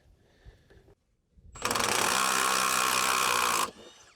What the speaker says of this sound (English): this bolt, the top bolt, came out with the help of the impact gun from that hole there